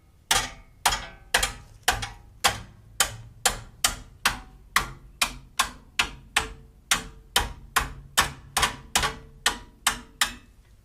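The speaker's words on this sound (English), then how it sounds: "Bend the shield back some." A Toyota Tundra brake dust shield is bent back with a steady series of about twenty sharp metallic taps, evenly spaced roughly every half second, close and moderately loud.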